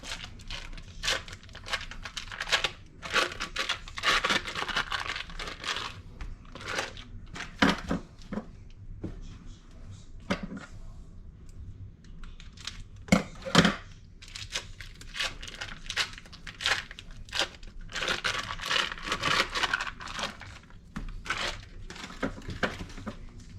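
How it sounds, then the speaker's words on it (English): Blocks of Philadelphia original cream cheese have their packaging cut open in a kitchen while making crappie fish dip, giving repeated crinkling, tearing and crushing sounds in irregular bursts at close range, with no talk. "It'd be easier if I just cut these open."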